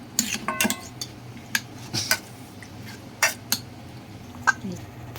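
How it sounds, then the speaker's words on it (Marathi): A utensil scraping and knocking in a pan in irregular bursts, several sharp metallic clinks among softer scrapes as a cooked chicken dosa filling is mashed, close by. "आता हे शिजवलेलं आहे मी चांगलं याला असं मॅश करून घेऊया"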